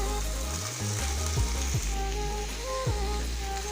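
Taro stolons (kochur lati) and potatoes fry in a pan with a steady, dense sizzle that stays loud and close throughout, with faint tonal sounds drifting underneath.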